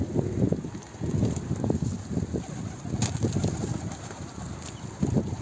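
Steady outdoor wind rushing and buffeting against the microphone, with faint rustling and a few distant bird-like chirps in the background.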